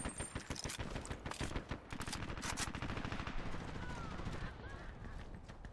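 Rapid automatic weapon bursts followed by revolver shots in the online shooter game Dirty Bomb, dense repeated cracks filling the whole stretch at a steady, moderately loud level, with a faint voice briefly underneath.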